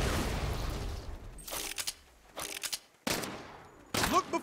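Bursts of automatic gunfire in the Saints Row video game, several loud rattling volleys separated by short quiet gaps, close and sharp.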